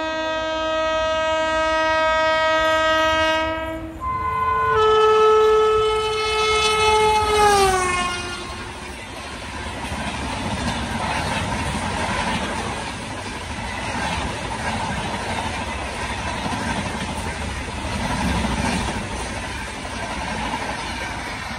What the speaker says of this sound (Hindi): धूल उड़ाते हुए पटरी उखाड़ते हुए काफ़ी तेज़ी से आ रही है शताब्दी एक्सप्रेस